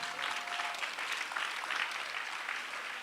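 A congregation claps steadily in a church service, a dense, sustained round of applause filling the space at even loudness throughout.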